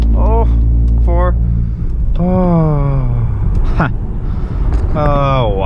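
Manual Acura TL accelerating hard through the gears, engine whine climbing in pitch then dropping sharply at each shift, several rising sweeps in a row, loud and close from inside the car with a low rumble beneath.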